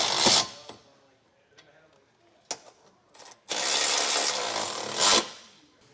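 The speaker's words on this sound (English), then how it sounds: "we'll go ahead and get the rest of them started and then snug them all down" Hand tools turning trailer hitch nuts on a 2023 GMC Terrain during a Curt receiver install: sharp ratchet clicks in short bursts, then a longer rapid ratcheting run, close up with quiet gaps between.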